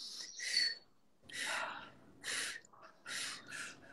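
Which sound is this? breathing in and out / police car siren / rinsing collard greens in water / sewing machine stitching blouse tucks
breathing in and out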